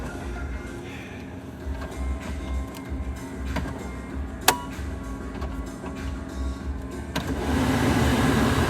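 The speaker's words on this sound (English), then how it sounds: "Blower motor works." A blower fan runs inside a 1969 Pontiac GTO convertible with a low, steady whirring hum and a single sharp click midway. The hum grows louder and fuller in the final second.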